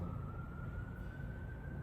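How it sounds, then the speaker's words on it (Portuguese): An ambulance siren outside sounds as one steady, faint wail that barely changes pitch, carrying on unbroken over low room rumble. "Ambulância agora."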